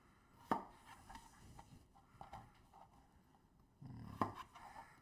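Knife chopping potatoes into 1-inch cubes on a cutting board, a few sharp, quiet thuds spaced apart with soft handling noise between.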